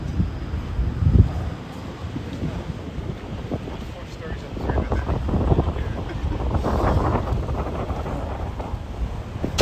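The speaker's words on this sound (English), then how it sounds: "an equally sunny and breezy day, as you can hear" Gusty wind buffets the microphone outdoors at Kensington Market on a sunny, breezy day, a rumbling rush that rises and falls, strengthening in the latter half.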